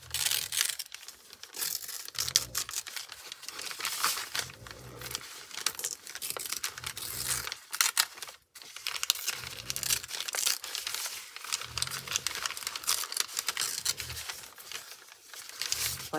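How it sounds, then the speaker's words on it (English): Paper being torn and ripped out by hand, heard as close, steady crinkling and tearing rasps that run almost continuously, with a brief pause partway through. "So I was thinking of ripping this out."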